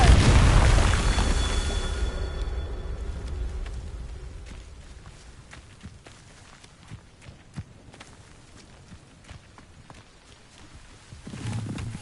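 A Confringo fire spell in Hogwarts Legacy detonates loudly right at the start, its booming blast decaying over a couple of seconds into quieter game ambience with scattered small pops and footsteps.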